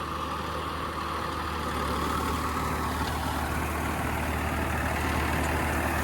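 A Swaraj 969 tractor running a 9-foot rotavator drones steadily and loudly with a low rumble and a continuous mechanical roar, nearby and unbroken, under no strain.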